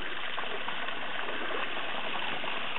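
Spring water pouring out of a pipe for a micro hydro system in Colorado, a steady, full rushing gush heard close and unbroken throughout.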